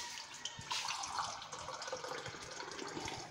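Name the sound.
water being added to a cooking pot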